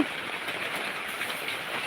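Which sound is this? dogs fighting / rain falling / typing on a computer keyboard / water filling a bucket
rain falling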